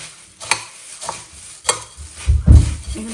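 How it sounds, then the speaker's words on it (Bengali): Puffed rice being tossed and stirred by hand with chanachur and mustard oil, close rustling and crunching strokes that swell into a heavier scraping mix near the end. "মুড়ি মাখা"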